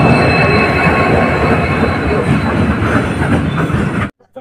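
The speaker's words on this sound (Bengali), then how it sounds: "আলিপুরদুয়ার জংশন ইন্টারসিটি এক্সপ্রেস নির্ধারিত সময় থেকে 40 মিনিট দেরিতে ছাড়লো মাদারিহাট স্টেশনের 1 নম্বর প্ল্যাটফর্ম থেকে" The 15767 Alipurduar Junction Intercity Express departs platform 1 at Madarihat station, rumbling loudly and steadily close by, wheels grinding with faint high squeal tones, then the sound cuts off abruptly near the end.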